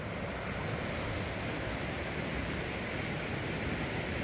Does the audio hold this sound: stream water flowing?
yes